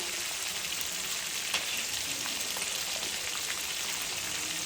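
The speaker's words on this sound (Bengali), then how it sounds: "মাছের মাথাগুলো আমার হালকা ভাজলেই হয়ে যাবে" Quiet, steady sizzling of fish heads lightly frying in oil in a pan with spices for Bengali chhyachra, a continuous hiss with faint crackles and no voices.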